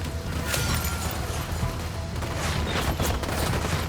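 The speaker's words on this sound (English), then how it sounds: "I'm opening fire." Gunfire in the video game Ghost Recon Wildlands, with rapid, overlapping bursts of shots forming a dense, continuous fusillade at close range.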